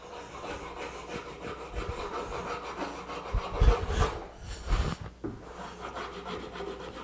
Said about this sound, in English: I bring in the file.